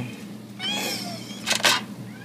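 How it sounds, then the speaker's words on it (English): House cat meowing nearby during a teardown of an Android Galaxy tablet: a drawn-out wavering meow, then a short pair of sharp bursts like quick cries, over steady room hum. "sorry, my cat is in the way."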